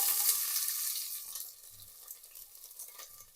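Onions fry in a pan in a home kitchen, a soft hissing sizzle that starts bright and gradually fades, with a few faint low clinks of utensils.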